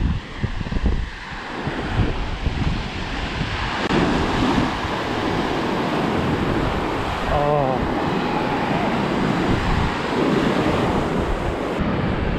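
Ocean waves at Grayton Beach State Park on the Florida Gulf coast, a steady broad wash of surf with heavy wind buffeting the microphone throughout, loud and continuous.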